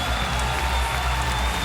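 A packed arena crowd at a mixed martial arts fight applauds and cheers continuously after the final bell, a dense roar of clapping and shouting that fills the whole moment.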